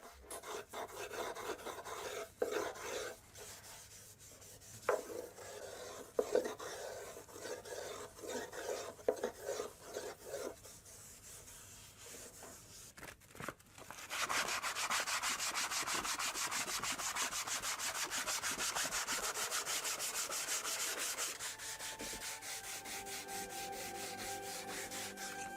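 An Edo master carpenter finishes wood with a hand plane, its blade set shallow for fine passes. Short, close scraping strokes come in an uneven series, then one long, steady hissing shave, with no talking.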